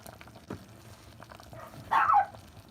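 Dogs bark in a kitchen where a pot is being stirred over heat, a short burst of barks around the middle, mid-distance and moderately loud over a quiet room hum.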